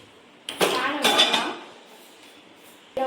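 Egg whisked in a bowl: a single burst of quick clinking and scraping lasts about a second, then fades to quiet, with a short clink returning at the very end.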